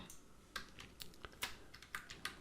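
Light computer keyboard clicks as Alt and Ctrl shortcuts are pressed while modelling roofs in Archicad, a scattered run of quick, soft taps over a faint background hiss.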